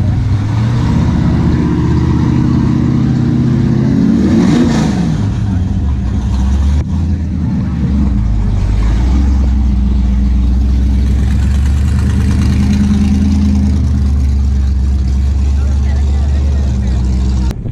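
Hot rod and muscle car engines at a roadster breakfast car meet, a loud low rumble of idling and revving with one rising surge partway through, under crowd noise and nearby talk.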